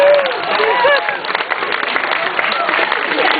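Zoo audience at Australia Zoo clapping and cheering for a tiger after a jump, a lively burst of applause with voices mixed in, loud and close throughout.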